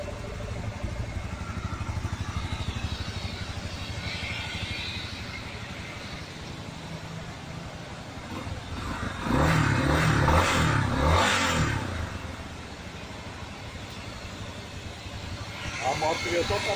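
A 2019 Yamaha Lander XTZ250 250cc motorcycle idles with a steady low engine note, then revs up loudly for a few seconds before dropping back, with a voice talking over much of it.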